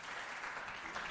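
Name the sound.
applause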